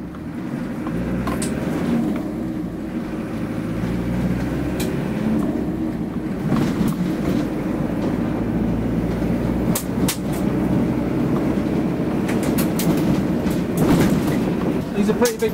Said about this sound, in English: Obviously the whole vehicle rattles around.